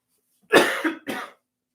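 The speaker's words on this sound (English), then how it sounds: "All the unexpected coughing happens." A person coughing close to the microphone, two harsh bursts, the first longer with a rasping throat-clearing tail, in otherwise silent surroundings.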